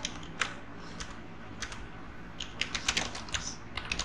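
Irregular keystrokes tapped on a computer keyboard while typing text into a photo album slide, soft clicks in uneven bursts over a faint steady hum, no voices.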